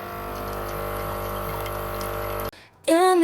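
A steady stream of running water pours for about two and a half seconds while an item is rinsed under a tap, then cuts off abruptly, followed by music rising at the end.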